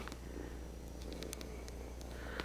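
A kitten purrs close and soft in a steady, continuous rumble, with a few faint light clicks over it.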